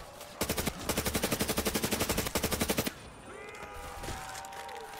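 Rapid automatic gunfire in Black Ops 3 custom zombies on the Sky map, two long evenly spaced bursts of sharp shots followed by quieter game ambience and scattered effects.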